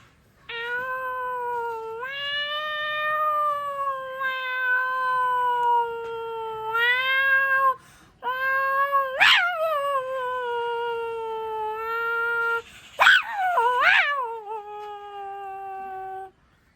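A voice imitates two cats fighting: long, wavering yowls and caterwauls rising and falling across the whole stretch, broken by a few sharp, shrieking spikes, loud and close with no other sound.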